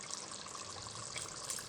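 Water pours into a pot of chicken and potato curry on the stove, a faint, continuous splashing trickle heard alone for a moment.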